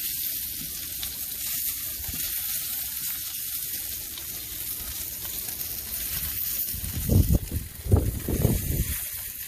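Home-smoked bacon sizzles on inverted grill grates over a Royal Oak charcoal fire, a steady close-up crackling hiss with louder spattering bursts near the end and no voices.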